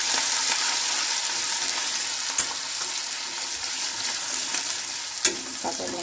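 Ginger fries and is stirred in a pan after garlic for a pasta dish, giving a steady, close sizzle with a couple of sharp utensil scrapes; no talk.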